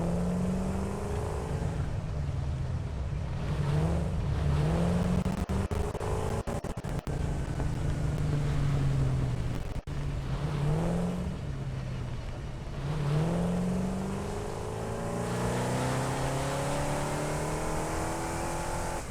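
Explorer vehicle from the game Satisfactory driving along, a steady loud engine drone with rising and falling revs throughout, close and continuous with no talk over it.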